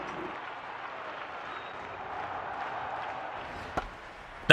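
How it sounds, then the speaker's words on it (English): Simulated crowd noise from a baseball video game, a steady, moderately loud roar of cheering that builds slightly, with a couple of sharp knocks near the end. "Crowd getting riled up."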